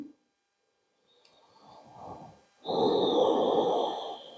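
Slow, audible breaths during a yoga stretch: a short soft exhale, then a longer, louder breath drawn close to the microphone, with near silence between them.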